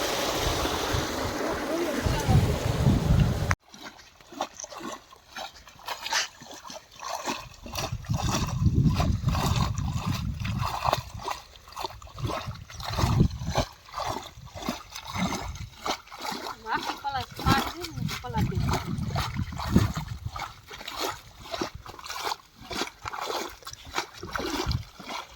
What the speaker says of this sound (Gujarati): કરી દીધું જો પાણી ચાલુ, હવે જાય છે વારવા પાણી.